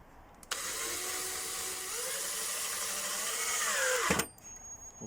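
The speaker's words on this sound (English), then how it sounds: "use a small drill as a pilot hole first" A small power drill bores a pilot hole for screws in a fold-out table for a VW T4 camper, one sustained whine lasting about four seconds that starts abruptly, holds steady, then stops, close and alone.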